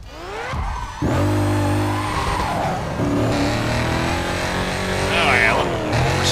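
Car oversteering in the racing game Need for Speed Carbon, a loud revving engine with tires squealing and skidding through a slide, gear changes audible, with someone talking over it.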